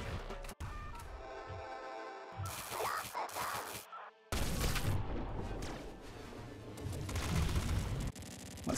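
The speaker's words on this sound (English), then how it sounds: "Gatling flugger." A Gatling flugger gun fires in the video game Nuclear Throne Ultra Mod, producing loud, dense bursts of rapid shots broken by short gaps, close and dominant throughout.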